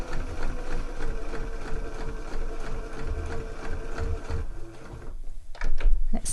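A sewing machine stitches a seam on a zip pouch in a rapid, even mechanical clatter, starting with a short back stitch, then pausing briefly near the end before a few more quick stitches.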